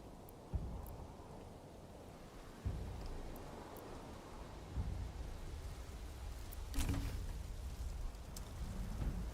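Steady rain patters in a strategy video game, Songs of Conquest, with several dull thunder rumbles breaking through at intervals, fairly quiet overall.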